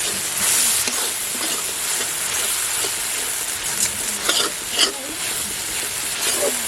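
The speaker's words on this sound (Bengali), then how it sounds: "আমার মশলাটা কষানো হয়ে গেছে" Spice paste with salt and chili powder sautéing in a pan for a Bengali kalboush fish curry, a steady close sizzle and hiss with a few scraping stirs and clinks, no talk.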